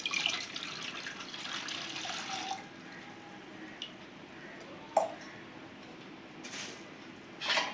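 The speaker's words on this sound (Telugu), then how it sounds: "వాటర్ అయితే వేస్తున్నానండి కొద్దిగా" Water pours into a pot of tomato rasam, a soft steady splashing and trickling that fades into quieter drips and small splashes.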